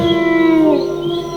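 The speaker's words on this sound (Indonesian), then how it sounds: "terdengar suara lolongan anjing kampung yang cukup membuat bulu kuduku berdiri" A village dog howls in one long, wavering, rising-and-falling cry. It is loud and close, heard alone without any talk.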